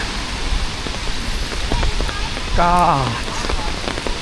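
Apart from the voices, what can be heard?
heavy rain falling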